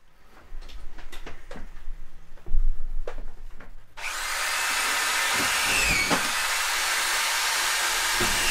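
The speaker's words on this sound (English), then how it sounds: "you can keep it running the whole time and you just keep pressing down, and it screws the screw in perfectly to the same depth every time" An auto-feeding screw gun drives screws into an insulated campervan floor: a few knocks and thuds come first, then a loud, continuous whirring motor runs close and unbroken to the end.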